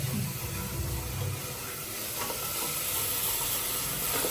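Sliced large onion sizzling in a hot pan, a loud steady frying hiss with a low bubbling burst as it goes in, then a constant sizzle with faint stirring.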